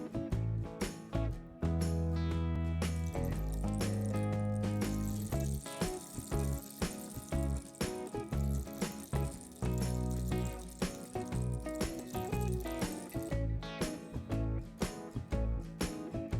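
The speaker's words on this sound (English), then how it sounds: "that way I can pour the BBs down into it" Airsoft BBs pour down through a homemade scrap wood rain stick, a steady cascading patter and rattle that keeps going with shifting density, clear and close with no talking.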